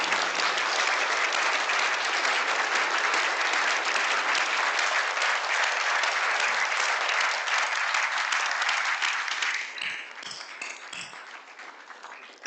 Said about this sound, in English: could I ask all of us in the room to give them a huge round of applause?